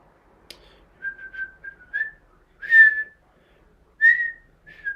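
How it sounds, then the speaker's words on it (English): Shrill, piercing whistles ring out at a baseball game, several sharp bursts with short gaps between them, loud and close against an otherwise quiet background. "was a loud whistle. That hurt my ears."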